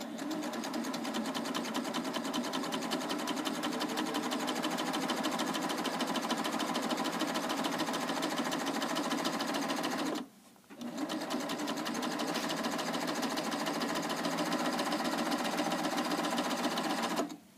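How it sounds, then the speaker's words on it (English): A Baby Lock serger runs a chain stitch with a cording foot, its fast, steady mechanical whirr loud and close, continuous apart from one brief stop near the middle before it resumes at the same pace. "I always want to start with my needle going right into the fabric when I'm doing a chain stitch."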